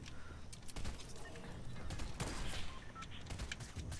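Sniper rifle fire in the Fortnite shooter, a few sharp cracks standing out from a busy, faint wash of game noise.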